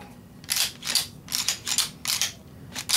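Someone works the magazine and action of a CZ75D pistol, producing a series of sharp metallic clicks and clacks in quick, uneven bursts, close and clear with no talk.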